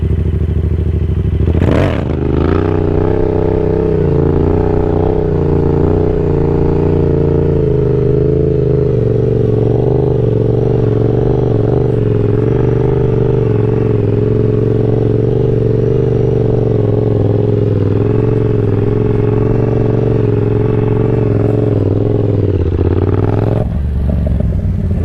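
A motorcycle engine holds a loud, steady drone during wheelie practice, alone with no talk, with brief sharper bursts near the start and at the end.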